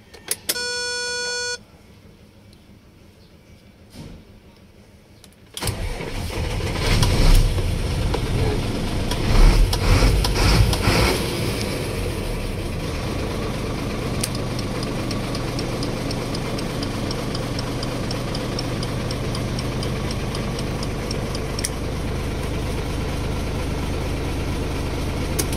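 A car engine restarted after a broken battery post was repaired, catching abruptly after a quiet pause and settling into a steady, even idle that runs on without talk.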